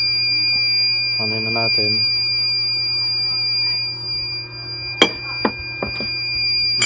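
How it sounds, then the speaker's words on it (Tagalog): The timer alarm on a mug heat press sounds as a short, rapid electronic beeping burst, followed by clicks and clacks of the press and a voice speaking nearby. "Okay, nag-alarm na. So, tapos na yung ating time."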